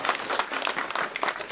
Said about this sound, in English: Another big round of applause to Paul.